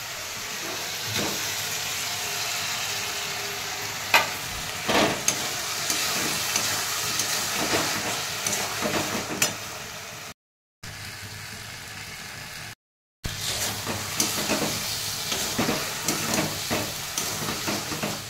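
Noodles being stirred and tossed through sauce in a pan, a steady scraping sizzle with clattering utensil knocks, briefly cut out twice, with no talk.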